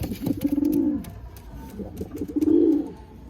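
A female pigeon coos twice, soft low throaty calls with a short pause between, close by against a quiet background.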